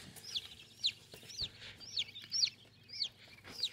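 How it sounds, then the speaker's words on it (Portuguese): Free-range chicks and baby quails packed in a small box peep in a steady series of high, rising chirps, close and fairly faint, with a low hum underneath. "Aqui tem 20 pintinhos caipira"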